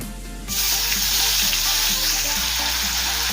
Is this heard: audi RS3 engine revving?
no